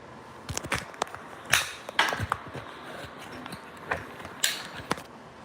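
A spring-loaded door stop pops off a door in an apartment being finished, giving several sharp, close clicks and springy snaps scattered over a faint background.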